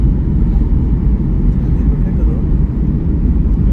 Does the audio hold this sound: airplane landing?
yes